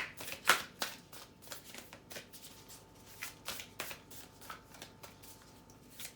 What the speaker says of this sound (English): Get a little reshuffle over here.